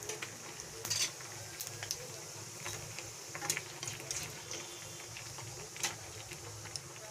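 Half a teaspoon of whole cumin seeds sizzles steadily in hot oil in a kadai, a close, even frying hiss with scattered small pops and ticks throughout.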